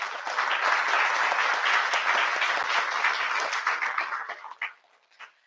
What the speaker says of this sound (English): Please give a big clap to Vice Chancellor